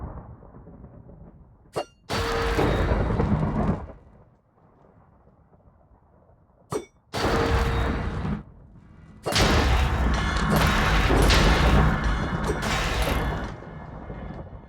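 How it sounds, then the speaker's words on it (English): Lightning strikes a lightning rod in Minecraft: two sharp cracks, each followed by a loud rolling thunder rumble. A third, longer crash of thunder comes near the end, and quiet gaps fall between the bursts. "You said directly strike the lightning rod."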